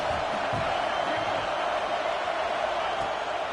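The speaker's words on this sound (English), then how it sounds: "Decibels rising as the crowd gets behind this defense on third down." In the College Football 26 video game, a stadium crowd roars in a dense, steady wall of noise during a third-down defensive stand in Michigan vs USC.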